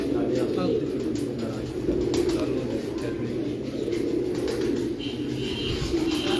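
Pigeons coo continuously and close by, their low soft calls layered over a steady background of rustling and faint chirps. Muffled voices can be heard.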